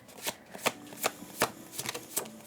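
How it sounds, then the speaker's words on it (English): A tarot deck, the crow deck, is shuffled close by: sharp riffling card bursts come about every third of a second in a steady rhythm, with no talking. "No, I'm being told to stop shuffling."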